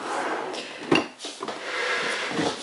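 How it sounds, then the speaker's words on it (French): A drawer slides back into a wooden cabinet with scraping, rubbing and a thud partway through, close by, against a hissy background. "Ici, voilà, le tiroir."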